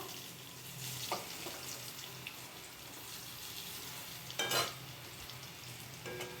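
Pumpkin pieces fry in a pan with a soft, low sizzle, broken by a couple of brief utensil clatters and scrapes.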